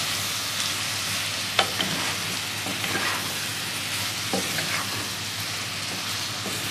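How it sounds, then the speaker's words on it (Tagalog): Adobong sitaw with chicken being stirred in a pan after a little water is added, a continuous sizzling hiss with occasional scrape and clink of the utensil, no talking. "I-mix well nyo lang siya ng ganyan."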